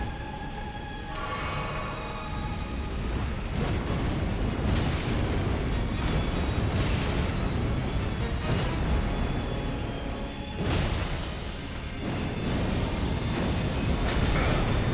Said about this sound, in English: that has such a huge explosion.